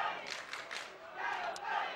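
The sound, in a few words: football crowd cheering after Sturt goal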